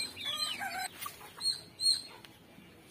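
Chickens cluck close by around a home at midday, giving several short clucks and a rising call over a quiet outdoor background with no talking.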